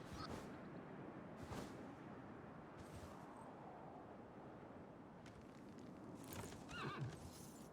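Horses in a strategy video game whinny and clatter with hooves amid busy battle noise, a few sharp neighs standing out over a continuous rumbling background.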